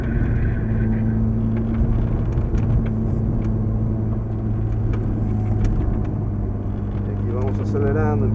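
Car on a driving track in Cancun, its engine note drones steadily and loudly from inside the cabin while a person talks over it.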